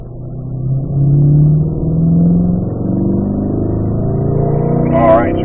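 Race car engine on a track, pulling through turn 6 toward the apex under throttle, a loud, close droning roar rising and falling in pitch as it accelerates, with the driver talking over it.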